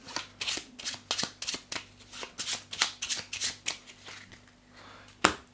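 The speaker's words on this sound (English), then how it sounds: "allows me to put these 3 cards, shuffle them back into the deck" Board game cards being shuffled back into the deck, a run of quick crisp riffling bursts repeating in a steady rhythm close by, ending with one sharper snap, no voices.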